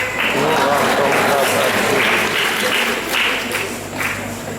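A church congregation breaks into sustained applause during a sermon, a dense wash of many hands clapping that fills the room and slowly eases.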